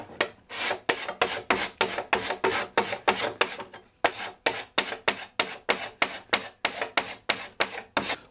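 A hand scraper strips old shellac finish from an antique wooden tea cart in steady, evenly spaced rasping strokes, about two per second, loud and close, with one short pause midway.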